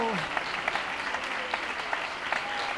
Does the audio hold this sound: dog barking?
no